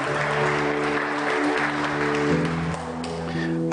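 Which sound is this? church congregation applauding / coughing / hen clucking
church congregation applauding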